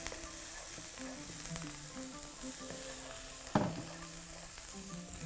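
Onion sizzling as it fries in a pan alongside garlic for a vegetable omelette, a steady crackling hiss with faint scraping and one sharp clatter partway through.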